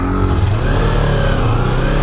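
A small motorbike engine revs close by, loud and continuous, its pitch rising and falling slightly over about two seconds.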